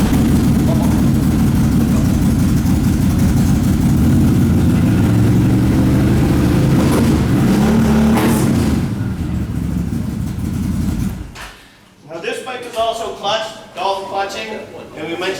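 A Gen 2 custom build motorcycle engine running with a loud, rough, low rumble for about eleven seconds, revving slightly, then cutting off as people talk nearby.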